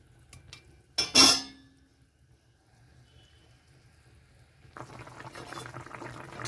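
Bengali tengra fish curry with potato, bori and eggplant boils in a pot. A sharp utensil clank comes first, then near silence, then a steady soft bubbling simmer that builds through the last seconds.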